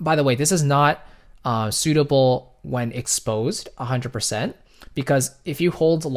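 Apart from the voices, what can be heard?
None of the usual background noises is heard.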